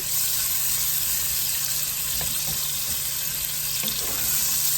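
A whole diced onion frying in a pan, a loud steady close sizzle hissing continuously with faint crackles and light stirring taps underneath.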